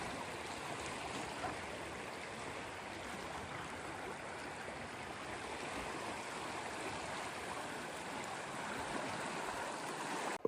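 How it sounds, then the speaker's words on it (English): Steady broadband rush of flowing water along a main river in the Alaska–Yukon wilderness, continuous and even throughout with no voices. "Made it to the main river."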